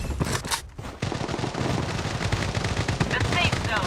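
Rapid automatic gunfire from the shooter game BloodStrike: dense, loud bursts that break briefly and then resume, with game effects over them.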